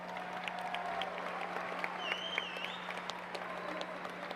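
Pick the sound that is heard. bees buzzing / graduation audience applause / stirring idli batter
graduation audience applause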